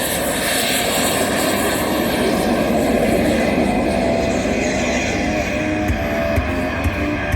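A 1/5 scale radio-controlled F-16 Fighting Falcon model jet flies at an airshow, its turbine roaring steadily and continuously from start to finish at a fairly close, loud level, with no voices over it.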